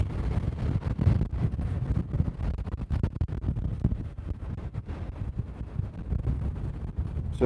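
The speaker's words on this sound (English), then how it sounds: "it is very, very windy." Strong wind roars and buffets the microphone steadily throughout on a Copenhagen street, a dense low rumble with gusty fluctuations and no voices.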